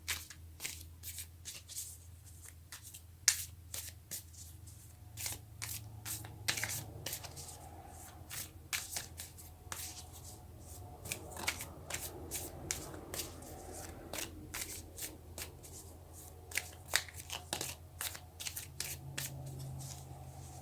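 Tarot cards are shuffled and drawn during a Leo reading: a close run of soft, crisp riffles, flicks and taps that comes in uneven bursts, with no one talking.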